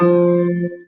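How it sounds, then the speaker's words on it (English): A single sustained musical note, the F below middle C, rings clearly for under a second before fading out. "This is the sound of F3."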